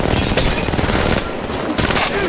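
Rapid, continuous automatic gunfire in the video game Apex Legends, loud and dense throughout with brief dips in intensity, heard alone without talk.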